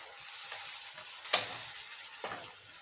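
Tomatoes, onion, chillies and curry leaves frying in a pan, a soft continuous sizzle with a few sharper crackles and stirring scrapes, one distinct pop near the middle.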